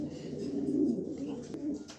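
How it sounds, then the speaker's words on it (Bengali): A red checker male pigeon coos softly in a low, rolling murmur, close by and faint, with light background noise. "এটা হচ্ছে একটা রেড চেকার নর কবুতর"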